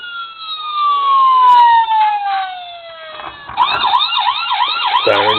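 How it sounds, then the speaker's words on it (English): Police siren tones from a custom Saline County Sheriff Dodge Charger diecast model, a falling wail sliding down and then switching to a rapid warbling yelp, played alone and fairly loud from a small speaker. "Hit that again. And you'll get the different siren tones."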